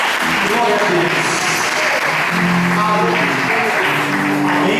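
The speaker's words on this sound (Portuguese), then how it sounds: "É uma salva de palmas para o Criador." Church congregation applauding during a worship service, steady dense clapping throughout with voices and sustained tones mixed in underneath.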